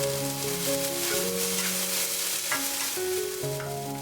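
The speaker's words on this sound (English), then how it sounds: "Stir fry for 1 minute." Onions, thick Chinese chives and bean sprouts stir-fried in oil in a wok with a steady sizzle and tossing scrapes, alone and without talk, while music plays over it.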